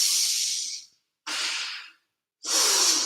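Three long, breathy exhalations during a kundalini yoga session, close and airy, each lasting under a second with short silent pauses between them, in a steady rhythm.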